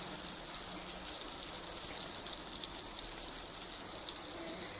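Mustard seeds, cardamom and cloves sizzling in melted butter, a faint, steady hiss of crackling fat with no talk over it.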